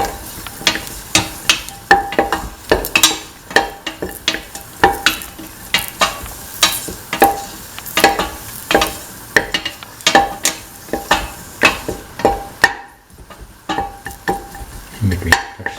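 Dates stirred in butter with cardamom in a pan for a semolina dessert soup, a repeated rhythm of sharp spoon scrapes and knocks over a light sizzle, loud and close, with no talk.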